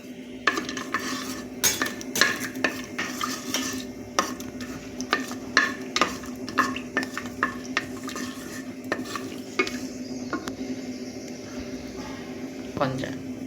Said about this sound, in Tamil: நெய் போட்டுக்கலாம். முந்திரி ஒரு 10 போட்டுக்கலாம்.